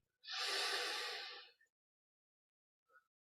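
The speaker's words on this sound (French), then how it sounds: "Puis, après l'expire, on prend une grande inspire" A deep, loud breath drawn in through the nose and mouth, a broad airy inhale lasting over a second, then a brief soft catch and a faint short sound after a pause.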